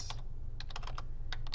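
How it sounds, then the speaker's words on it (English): Quick bursts of keystrokes on a computer keyboard, clicking in short irregular clusters over a steady low hum, close and clear, while typing in Microsoft Word. "I am now typing my first sentence"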